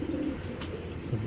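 A pair of large patti pigeons coo softly, a faint, low, brief coo over a quiet background.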